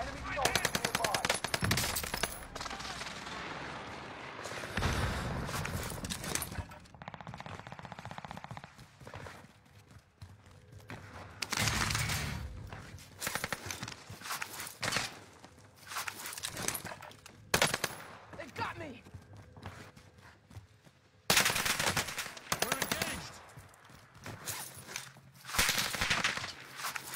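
Heavy video game gunfire during a tournament match: loud bursts of automatic fire and shots come in repeated clusters with brief lulls, while players talk over the action.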